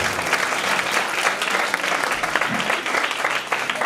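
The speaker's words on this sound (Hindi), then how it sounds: "जोरदार तालियां राजमिस्त्री के।" Enthusiastic, dense applause from an audience at a school annual function in Uttarakhand, steady and close throughout with a faint murmur of voices underneath.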